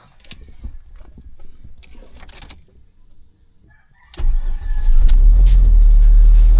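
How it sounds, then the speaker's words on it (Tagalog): A car sits quietly at first with scattered clicks, power-window whirs and door sounds, then its engine starts abruptly and settles into a loud, steady, low idle rumble as it warms up. "Painit makina."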